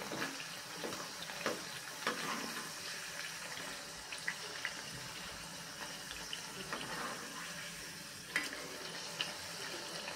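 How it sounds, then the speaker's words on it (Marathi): Bharad vada, coarse-grain fritters, frying in oil until crisp on both sides: a soft, continuous bubbling sizzle with occasional sharper pops, faint and steady throughout. "छानपैकी दोन्ही साइडनी खरपूसपणे हा वडा छानपैकी तळून घ्यायचा आहे"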